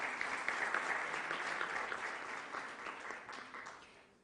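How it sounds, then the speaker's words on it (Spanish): Audience applause for a panelist at a university social responsibility event, a steady round of clapping from a crowd that fades out toward the end. "Un aplauso muy fuerte para nuestro panelista"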